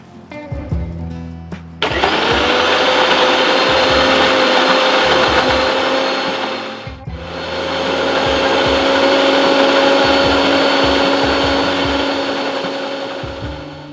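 An electric mixer blender grinds beetroot and carrot with water, starting abruptly and whirring loud and close. It dips briefly midway, then runs steadily again to the end.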